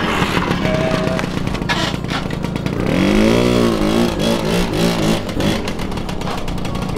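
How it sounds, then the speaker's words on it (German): A small moped or Mofa engine revs up with a rising, buzzing whine, then settles back to idle over background noise. "Ist das ein Moped oder?"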